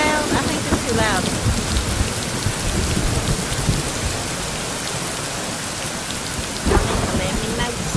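Steady, loud rain pours during a thunderstorm in the game Rising World, broken by a thunder crack near the start and another sharp clap near the end.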